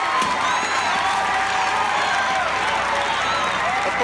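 A huge crowd of about ten thousand people cheering and screaming wildly, a dense continuous roar of voices with whoops rising above it.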